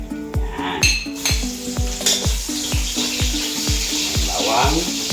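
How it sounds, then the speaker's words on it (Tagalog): Cut beef for Filipino beef asado sautés in a pan: a loud, steady sizzle with a regular series of sharp metallic clanks from a utensil striking the pan, close and continuous, with no speech. "pagkatapos ating may hiwa, magigisa na tayo ulit."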